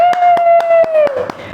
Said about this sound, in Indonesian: Keren banget, tepuk tangan dulu dong.